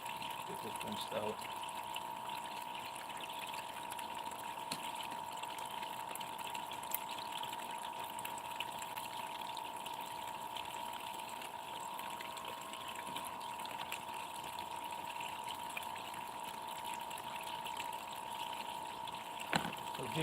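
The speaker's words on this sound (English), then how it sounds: "I have a 500 gallons per minute pump in here" A 500-gallon-per-minute water pump feeds a clean-up sluice, giving a steady, even rush and hum of flowing water throughout with a constant tone, while a person talks intermittently over it.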